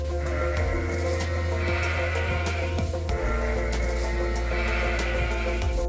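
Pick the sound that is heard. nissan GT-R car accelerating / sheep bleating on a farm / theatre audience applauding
sheep bleating on a farm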